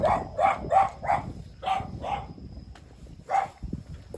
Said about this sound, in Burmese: ခွေးဟောင်း